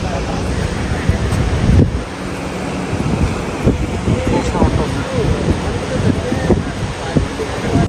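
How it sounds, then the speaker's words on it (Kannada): A steady, loud roar of rushing water fills the scene, broad and continuous, with gusty wind buffeting the microphone throughout. "ಸೇಮ್ ನಮ್ಮ ಜೋಗ ಜಲಪಾತ ಅದ, ಅದೇ ಥರ ಅದ"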